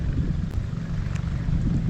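Strong wind buffets the microphone beside mossy, slippery water on a snakehead fishing spot, a continuous low rumbling roar with gusty swells and no talk.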